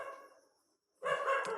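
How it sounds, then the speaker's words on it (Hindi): A dog barks somewhere behind a speaker in an indoor setting, with one short bark that fades out, a brief silence, and then a sharper burst of barking. "आवाज़ आ रही है पीछे से, हमको लग रहा है कुत्ते के भौंकने की।"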